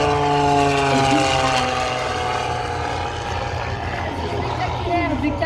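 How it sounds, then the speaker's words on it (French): A Dassault Flamant propeller aircraft flies an aerobatic display at an air show, its engines droning loud and steady throughout with a sustained tonal hum. "Claude, à bord de ce flamand de Dassault Aviation"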